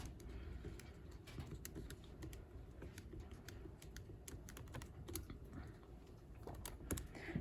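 Matrix elements are keyed into a calculator in a steady run of quick, light plastic button taps, continuous and fairly faint with no voice over them.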